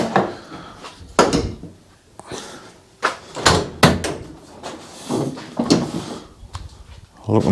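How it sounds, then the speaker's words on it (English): Rear doors of a van being fitted out with racking are unlatched and swung open, giving several clunks, rattles and a metallic bang amid handling noise, with someone talking in between. "I'll get these doors open, we'll have a look."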